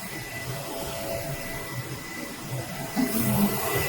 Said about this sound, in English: Then the printer starts to print the picture out.